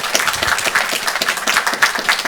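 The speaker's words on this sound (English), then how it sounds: "it's okay to applaud" Audience applause at a Capitol Hill briefing, a dense, steady patter of many hands clapping in a room, fairly loud and sustained throughout.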